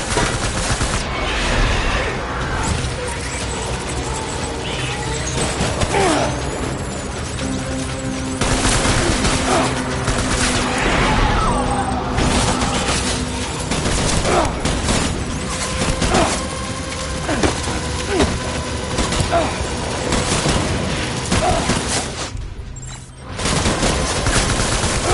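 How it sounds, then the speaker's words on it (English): Dense gunfire and explosive booms from the video game Death Stranding 2 roar continuously and loudly, with overlapping bursts, crashes and mechanical clatter throughout, easing briefly near the end. "Open fire."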